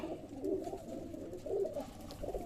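Pigeons coo softly in a few repeated low, throaty phrases, fairly faint against a quiet background.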